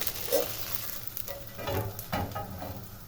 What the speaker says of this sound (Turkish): kısık ateşte alt üst kızartacağız.